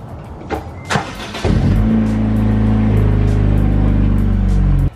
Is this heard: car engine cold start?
yes